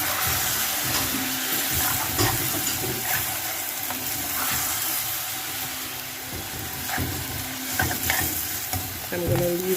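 Pot of browned food simmering in its own sauce and juices over a low fire: a steady bubbling sizzle with occasional stirring scrapes and soft clinks, close and fairly loud.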